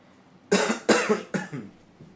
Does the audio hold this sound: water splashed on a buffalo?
no